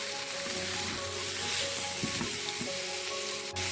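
Pumpkin pieces stirred with spices in a pan make a soft continuous sizzle with a few spoon scrapes against the metal, fairly quiet and close, with no talking.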